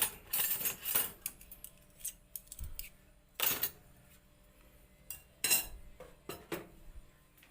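Metal spoons clink against dishes as a Thai glass-noodle omelette is served, several bright separate taps and scrapes with pauses, close and fairly quiet, no talking.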